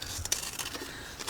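Scissors cutting paper for ephemera craft work, producing a couple of quick snipping crunches followed by a soft scraping rustle, close up and quiet with no talking.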